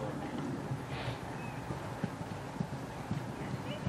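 Hooves of a horse on a show jumping course thud in a quick, regular canter rhythm at moderate distance over a steady arena background, with a brief neigh-like sound early on.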